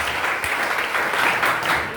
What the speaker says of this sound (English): Why don't we give a good applause to our Lord Jesus as good?